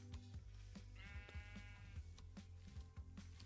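Minecraft sheep bleating in a hardcore world, one clear wavering bleat over a busy, rhythmic game background with low thumps and music-like tones.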